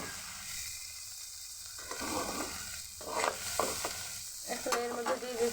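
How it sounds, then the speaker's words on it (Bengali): Spice paste of turmeric, ginger-garlic and cumin fries with onions in a pan for a bitter gourd dish, sizzling steadily while a spoon scrapes and stirs in uneven bursts, close and fairly loud. "মশলাটা আমি পেঁয়াজের সাথে ভালো করে ভেজে নেব।"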